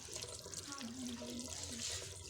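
Water runs steadily from a tap during hair washing in a Himachali village home, a continuous hissing splash with a voice talking briefly over it.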